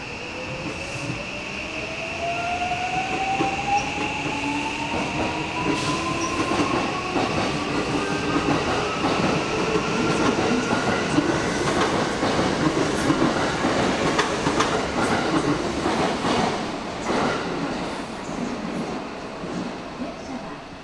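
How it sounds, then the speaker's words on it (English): A JR West Osaka Loop Line train pulling away from Shin-Imamiya Station platform 1, its rumble and clickety-clack building with rising motor whine and faint wheel squeal, while people talk quietly nearby. "train departing at"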